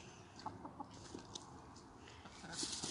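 Chickens cluck and peck around a backyard garden, with soft irregular clucks at a moderate distance over rustling outdoor background noise.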